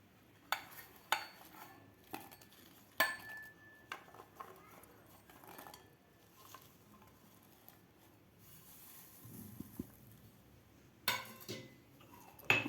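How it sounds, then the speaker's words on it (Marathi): Thecha for Khandeshi eggplant bharit being pounded in a mortar and pestle, heard as sparse, sharp knocks at irregular intervals, close and fairly quiet, with soft background noise between strikes. "आज आपण खलबत्त्यामध्ये हे ठेचा करून घेणार आहोत"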